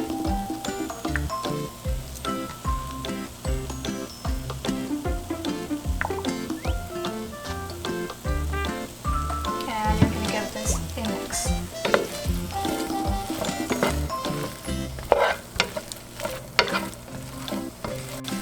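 Sesame oil goes into a hot, sizzling pan: a steady, crackling fry hiss runs throughout, with close, rhythmic stirring and scraping on top and no speech.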